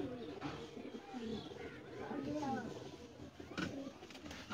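Pigeons kept by a hobbyist coo in soft, repeated throaty phrases close by, while someone talks over them.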